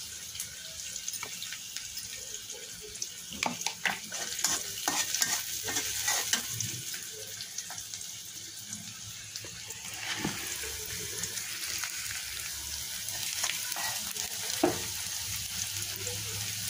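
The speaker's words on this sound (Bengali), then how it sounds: "এখন চুলাতে আমি এই যে পেঁয়াজ ভাজতে দিয়ে দিয়েছি।" Onions frying on a stove for a Bengali home-cooked fish dish, a steady close sizzle with repeated scraping stir strokes and clinks throughout, no talk.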